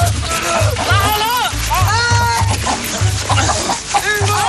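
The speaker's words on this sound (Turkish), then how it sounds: "Tavuk." A chicken clucks in short bursts close by while people shout and talk loudly over it, the bird's sounds mixed in with the excited voices.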